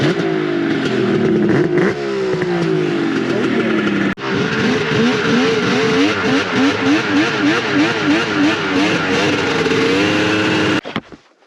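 A 1999 Mountain Max 700 triple snowmobile with three carbs, three tuned pipes and three exhaust tips revs loudly and close up, its three-cylinder two-stroke rising and falling in repeated bursts for about eleven seconds before cutting off.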